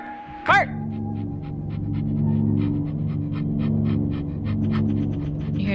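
Dog panting steadily in a video game, rhythmic breathy huffs repeating close by over a low droning hum, with a brief sharp bark-like burst at the start.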